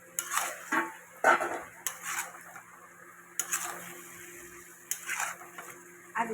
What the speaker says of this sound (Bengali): মাংসটা দিয়ে দিলাম।